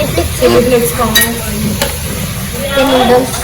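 Noodles are stirred and fried in a pan, a steady close sizzle with scraping stir strokes throughout, while a voice talks intermittently over the cooking.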